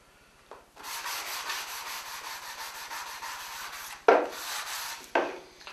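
Wood is hand-sanded with 180-grit sandpaper in steady, rhythmic back-and-forth rasping strokes, close and moderately quiet, with a couple of sharper scuffs near the end and no talking.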